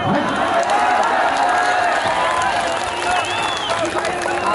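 Crowd at an outdoor Urdu-Hindi mushaira poetry recital clapping and cheering steadily, a dense, continuous wash of applause with scattered shouts throughout.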